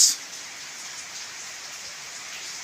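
Steady summer rain falling, a soft continuous hiss of drops, even and moderately faint throughout, with a brief louder burst at the very start and no talk.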